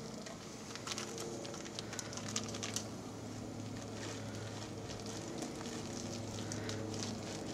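Beer wort with hops at a rigorous boil, giving a steady close bubbling and sizzling roar with scattered crackles and pops throughout, no talking.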